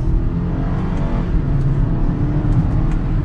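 Engine of a 2021 BMW X1 sDrive28i in sport mode, downshifting into second gear on a test drive: a steady, loud low engine drone with road noise, continuous throughout, no talking.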